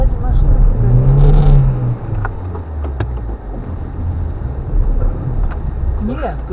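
A car engine revving while stuck on a snowbound forest road: a rising, droning rev rolls under wind noise, with people talking over it throughout.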